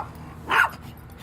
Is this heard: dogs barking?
yes